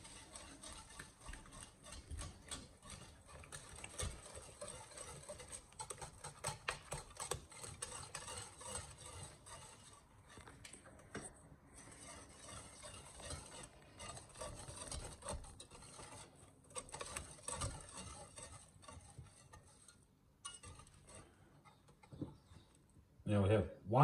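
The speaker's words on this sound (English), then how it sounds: "Whisk this together." Lemon butter mixture being whisked in a bowl, a steady scraping, rubbing rhythm of whisk against the sides that runs on and off at moderate level, with a person talking over it at times.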